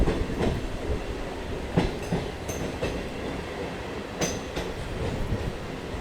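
A Howrah to Belur Math local train runs at speed through a quiet stretch, with a steady rolling rumble, rhythmic wheel clatter and a few sharp metallic clicks and squeals close by.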